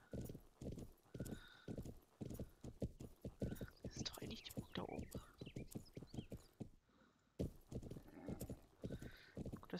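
Horse hooves clip-clop in a steady rhythm, with an occasional whinny, in the video game Planet Horse, heard under someone speaking German throughout.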